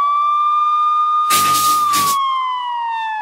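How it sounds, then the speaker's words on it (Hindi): A police siren wails in a steady, rising-and-falling tone throughout, loud and close, with a brief burst of broadband noise in the middle. "पुलिस का सायरन सुन के उबराय और सिंघानिया वहां से चले जाते हैं।"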